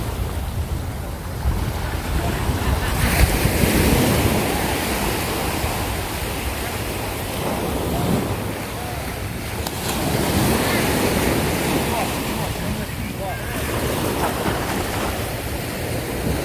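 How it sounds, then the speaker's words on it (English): Ocean surf rolling in at Waikiki Beach, Hawaii: a steady broadband wash of waves with gusts of wind noise on the microphone, continuous and fairly loud, swelling and easing without distinct breaks and no talk. "There's Waikiki Beach, guys."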